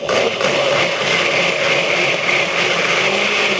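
A blender whirs steadily while mixing a chocolate malt, a loud, even motor drone with a bright whine that holds for several seconds without speech.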